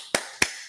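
Three sharp hand claps ring out close and loud, spaced evenly about a quarter second apart, each a crisp percussive snap with nothing else heard.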